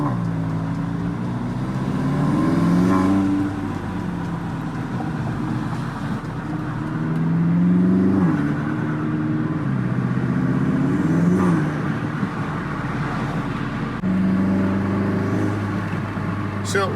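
Steady Volkswagen MK7 Golf R engine drone with rising and falling induction noise through the full intake box and old filter as the car accelerates in waves, heard from inside the cabin.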